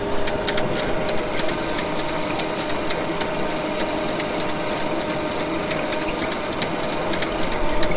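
A sorting machine on a large potato harvester runs steadily, a dense mechanical clatter and whir with rattling parts, loud and close, with no talk.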